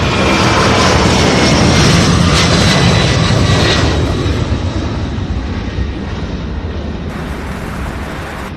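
A UPS freighter's jet engines roar at Louisville airport, loud and broadband at first, then gradually fading as the aircraft moves away.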